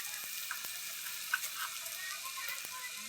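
Bitter gourd sabzi sizzles steadily in a pan as it is stir-fried with homemade masala and a little turmeric, a soft continuous frying hiss with faint ticks of the spoon stirring.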